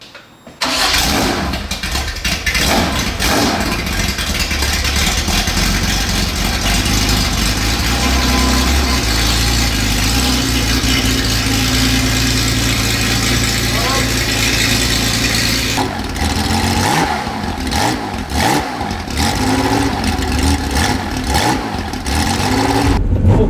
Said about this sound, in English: Okay, George, I think it's time to take the Porsche for a spin